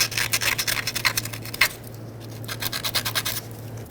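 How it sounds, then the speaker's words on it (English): Sandpaper scrubs dirt and corrosion off the large starter power wire terminal on a 2011-2016 Ford F-350 with the 6.2L V8, making close, rhythmic back-and-forth scraping strokes with a short pause midway. "We'll do the same to this larger power wire, sand it down."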